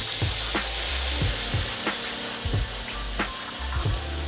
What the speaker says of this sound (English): Now we'll put this back on our grill plate.